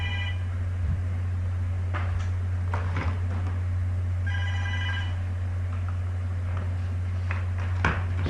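A landline telephone rings in short repeated bursts over a steady low electrical hum, with a few clicks and knocks scattered through the room.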